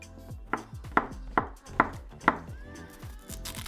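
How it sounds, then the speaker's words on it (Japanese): A knife chops onion and a king oyster mushroom on a board, five crisp, evenly spaced knocks close up, followed by softer cuts and light scraping, with no talk. "玉ねぎ1/2分の1個はみじん切りに、 エリンギ1個は適当な大きさに切り"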